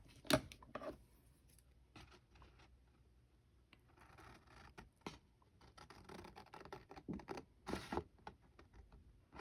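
Scissors snipping through cardstock paper while making a Christmas pocket craft, a string of quiet close crisp cuts and scrapes, one sharp snip near the start and a burst of cutting toward the end.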